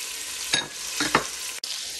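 Oil and a big spoonful of butter sizzling in a pan, a soft steady crackle with a few scraping stirs, close and alone.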